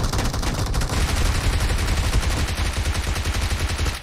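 Sustained rapid gunfire from the mobile game PUBG Mobile, dense and loud, with overlapping bursts rattling continuously throughout.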